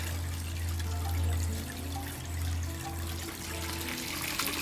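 Water flows steadily through a small garden pond pump setup, a continuous wash of splashing with a low electric hum running underneath at an even, moderate level, with no voices.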